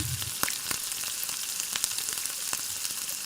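Ground spices such as turmeric and cumin paste sautéing in hot oil for a koi fish curry, with a loud, continuous close sizzle punctuated by sharp crackles and pops.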